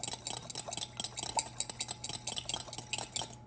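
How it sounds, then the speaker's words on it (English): A whisk beats olive oil and freshly squeezed lemon juice in a bowl for a Persian cucumber salad dressing, giving a fast, steady run of light metallic clinks and scrapes close up with no talking. "And now whisk it together."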